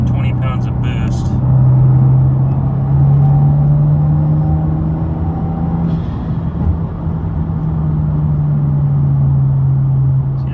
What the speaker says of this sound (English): So I want to do a fourth gear pull to see if the temps go up at all.